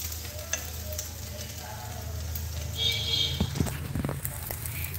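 Toast frying on a hot tawa griddle gives a steady soft sizzle throughout, with a few light scraping and tapping sounds from turning it.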